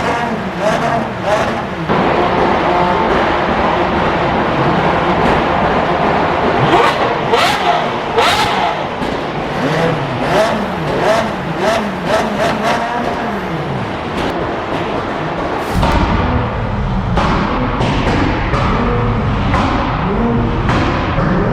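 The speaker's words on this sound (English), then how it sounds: "everybody and their mama is revving right now" Cars rev their engines all around a straight-piped BMW M4 G82 in traffic, a loud, continuous roar of rising and falling engine notes with sharp bursts throughout. A voice talks over it at times.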